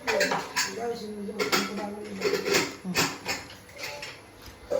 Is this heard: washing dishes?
yes